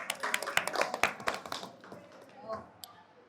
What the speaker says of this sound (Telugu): క్లాప్స్ చేయండి ఒకసారి అందరూ.